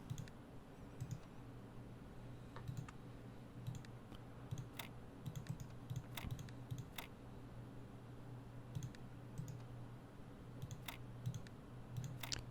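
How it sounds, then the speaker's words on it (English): Rapid computer mouse clicking during an ASMR playthrough of The Talos Principle, sharp close clicks coming in irregular bursts over a low steady hum, with no talking. "Hopefully that wasn't just like a lot of rapid mouse clicking sounds."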